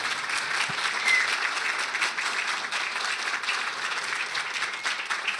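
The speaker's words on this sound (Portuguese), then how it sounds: "Gostaria de uma salva de palmas para os dois," Steady applause from an audience at a municipal zero-waste event in Guarulhos, a dense, even wash of clapping that holds at one level throughout without breaking off.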